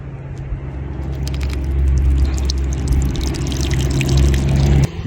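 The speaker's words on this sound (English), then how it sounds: "I like to give them a little drink of water first." Water is poured onto brassica transplants set in a very dry planting hole in a field, a steady close trickle and splash over a low outdoor rumble that stops abruptly near the end.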